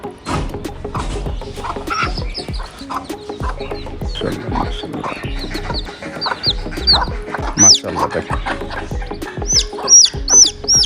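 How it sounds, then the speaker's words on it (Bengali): Hill chickens cluck and chatter continuously nearby on a farm, with higher chirps from chicks scattered throughout, a busy farmyard flock. "ওই যে মুরগিগুলো হাঁটছে ওইখানে"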